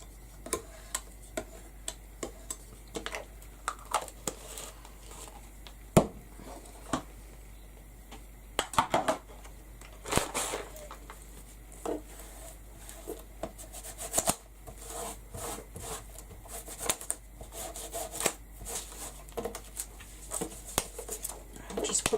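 Excess paste scraped off a stencil in a craft session, soft intermittent scratches and light ticks, faint over a low steady hum.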